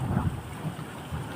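Low rumbling thunder rolls through a heavy Saudi Arabian rainstorm, with a few soft booming swells over the constant wash of rain and no talking.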